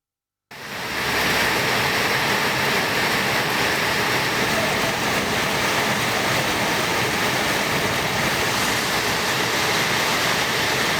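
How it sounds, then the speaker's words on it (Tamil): Rainwater pours steadily inside a government bus during heavy rain in Tamil Nadu, a dense, continuous rushing roar like a waterfall that starts abruptly and stays loud throughout with no voices. "அரசு பேருந்திற்குள் மழைநீர் ஆங்காங்கே அருவி போல் கொட்டியதால்"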